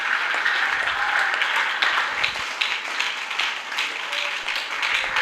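Church congregation clapping during an evangelist's sermon, a loud, dense, steady round of applause from many hands filling the whole stretch, with no voice over it.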